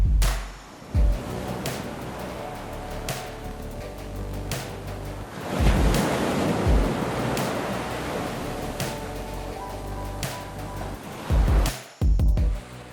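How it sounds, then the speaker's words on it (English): Ocean waves crash on the rocky Portuguese coast along the Fisherman's Trail, a steady broadband roar of surf with repeated heavier breaking surges, close and loud, with no talking. "my way down to the water the next morning to witness the power of the waves up close"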